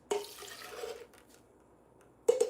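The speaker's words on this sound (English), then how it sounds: "I'm gonna go on and pour my hot coffee over the brown sugar" Hot coffee poured over brown sugar in a breakfast kitchen: a close, splashy liquid pour lasting about a second, fading to near quiet, with a sharp knock at the end.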